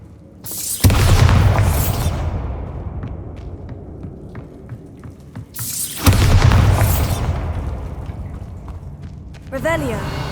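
In the video game Hogwarts Legacy, the Bombarda spell sets off two loud booming explosions a few seconds apart, each with a sharp crack that fades into a long rumbling tail, followed by another spell effect at the end.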